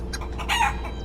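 A chicken in a video game set in the Shire gives a quick run of short, fairly loud clucks over a steady low hum.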